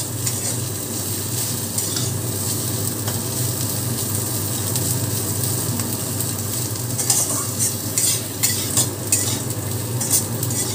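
Teasel gourd and potatoes fry in a pan with steady close sizzling, while a spatula stirs through them with scraping and clinking that grows busier toward the end; no voices.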